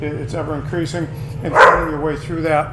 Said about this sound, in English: pardon the dog, she just gets excited